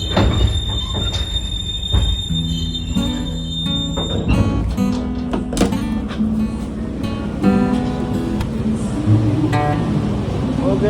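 A Malioboro Ekspres passenger train rolls steadily along the rails toward Blitar, with rumbling wheels, clanking joints and occasional metallic squeals, continuous and fairly loud throughout.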